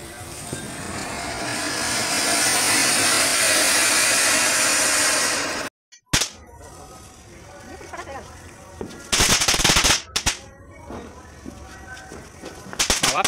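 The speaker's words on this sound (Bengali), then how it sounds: "বাবা পিজ্জা চটপটি ফাটাচ্ছে।" Pizza chatpati firecrackers go off outdoors during a household festival, a long sustained crackling burst followed by silence, then several sharp loud pops and short volleys with voices nearby.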